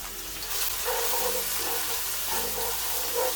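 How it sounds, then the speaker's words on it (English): Chopped onion, hot pepper, scallion and garlic sauté in a pan for vegetarian rasta pasta, giving a close continuous sizzling hiss with soft stirring scrapes pulsing through it. "I'm just gonna mix that in and let that saute"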